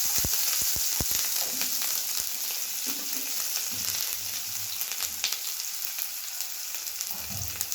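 Ginger garlic paste sizzling and frying steadily in a pan, a constant hiss with a few early pops and light stirring sounds, no talk.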